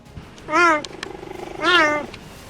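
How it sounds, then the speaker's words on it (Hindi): Two drawn-out, high chirping yelps from a cheetah, separated by a softer rattling purr-like sound, close and clear. "अगर चीता आराम कर रहा हो या फिर उसका साथी बिछड़ गया हो तो वो इस तरह से आवाज निकालता है"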